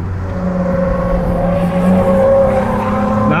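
A Ford Mondeo ST220 engine drones at speed on a lap-timing run, with a steady sustained tone from inside the car that rises slightly near the end.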